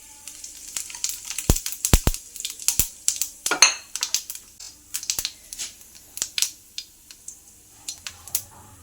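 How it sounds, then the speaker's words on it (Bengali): Dried red chillies and cumin seeds tempering in hot mustard oil give a steady crackling sizzle, broken by sharp pops and spits, close by, with no talk over it. "তেলটা গরম হয়ে গেছে, এর মধ্যে শুকনো লঙ্কা আর জিরেটা ফোড়ন দিয়ে দিলাম।"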